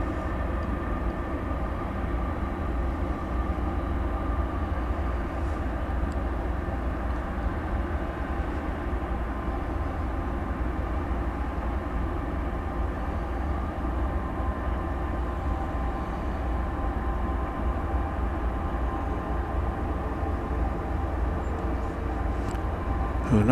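Steady low rumble of a jet airliner taxiing across a runway at Dallas Fort Worth Airport at night, a continuous heavy drone with faint tonal whine, sustained and unbroken throughout with no talking.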